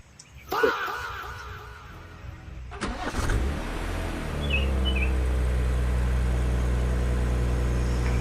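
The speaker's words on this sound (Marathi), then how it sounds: "गाडी चावी चालू करायची, गाडी सेल्फ मारायची" A vehicle engine cranked with its electric self-starter: an early clunk, then a brief whirring crank at about three seconds, catching into a steady, loud idle that holds to the end.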